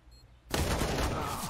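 A rapid burst of gunfire erupts after a short quiet moment in Counter-Strike: Global Offensive, with loud cracking shots that continue to the end.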